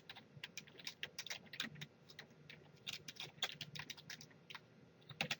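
Rapid, uneven keyboard typing, close and clear, with bursts of key clicks and brief pauses between them.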